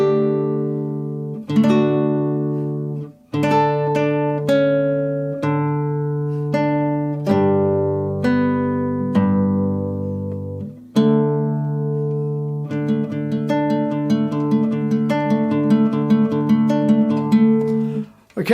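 Fingerstyle acoustic guitar plays the A section of the Life is Strange theme, with picked melody over ringing bass notes in clear repeating phrases and a denser arpeggiated passage near the end; loud and close, no talk.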